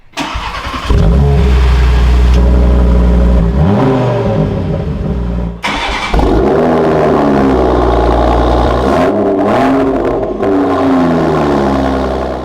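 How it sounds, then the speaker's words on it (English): An Audi RS3 engine starts and revs loudly up close, with repeated throttle blips rising and falling, a short drop in sound midway, then more sharp revs and a settling idle. "that RS3 certainly sounds good"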